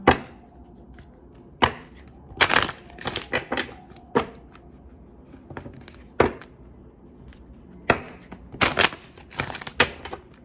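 Tarot cards are shuffled and tapped in short bursts of sharp riffling clicks, separated by quiet gaps, close to the listener.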